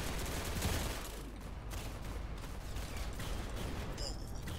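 Dense, continuous gunfire from the online shooter game Arsenal, a loud sustained burst of rapid shots filling the whole stretch with no clear pauses.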